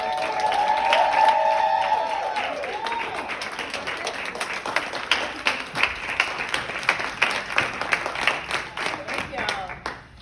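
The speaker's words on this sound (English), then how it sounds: "let's give like a formal round of applause for Street!" An audience at a live street-poetry event in Sacramento breaks into a round of applause, dense clapping swelling under cheering and a speaking voice, then thinning to scattered distinct claps near the end.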